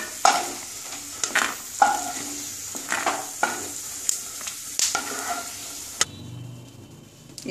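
Red spinach with peanuts fries in a wok with a continuous sizzle, punctuated by regular, close spatula scrapes and clatters against the pan before the noise drops away near the end.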